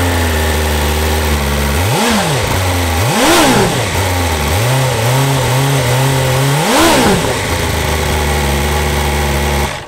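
A loud 2024 BMW M1000XR engine idles, then revs up sharply several times through a carbon silencer exhaust, the note rising and falling with a deep throaty rasp.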